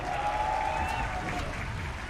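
Crowd applause fills an esports arena during a Mobile Legends match between EVOS Legends and Alter Ego, a broad steady wash of clapping and cheering with a faint whistle-like tone over it.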